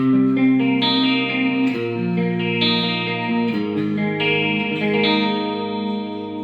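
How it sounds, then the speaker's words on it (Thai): A clean electric guitar, a 2017 Gibson SG, plays flowing chords and arpeggios with a shimmering, warbling chorus effect, steady and close, with no talking. "อันนี้เป็นเสียงคลีนคอรัส"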